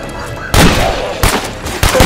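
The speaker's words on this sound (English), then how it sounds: "Everyone, stop shooting!" Gunfire in State of Decay 2 during a zombie apocalypse fight, three loud, close bursts of shots with short gaps between them, no talking.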